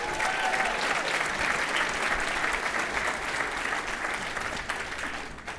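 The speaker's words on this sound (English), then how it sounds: "please give them a huge round of applause." Loud, sustained audience applause for a supply management team at an evening charity event program, a dense crowd of clapping hands that holds steady and tapers slightly at the end.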